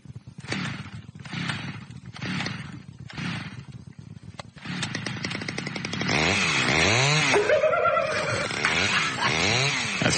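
Chainsaw trimming trees, heard as a series of revving bursts that then run into a continuous, wavering whine, loud and close, with no talk over it.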